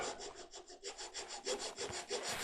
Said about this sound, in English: That coarse rasp has a tendency to wander if you don't have a little shallow groove here to start it in.